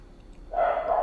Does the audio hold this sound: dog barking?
yes